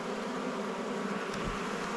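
Dense, steady hum of honey bees buzzing on hive frames in an Australian apiary, a continuous close drone with no talk.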